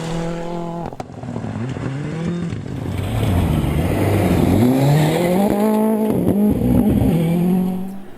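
A rally car races along a forest stage at the Jim Clark Reivers Forest Rally, its engine revving hard and rising and falling through gear changes, with brief tyre noise, loud and close throughout with no talking.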